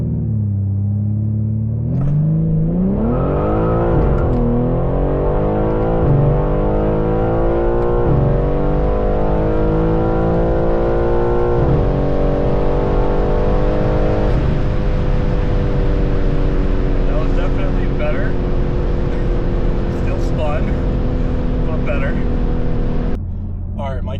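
A stock BMW M3 launches from about 2,800 RPM and accelerates hard in second gear, its engine roaring loud and close with a rising pitch, then holding a steady high drone before cutting off at the end.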